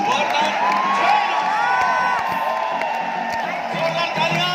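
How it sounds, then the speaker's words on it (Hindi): An audience at a self-development seminar roars with sustained cheering, whoops and applause for speaker Harsh Vardhan Jain, loud and unbroken throughout, with shouting voices and music-like tones mixed in. "standing ovation and powerful round of applause, Mr. Harsh Vardhan Jain"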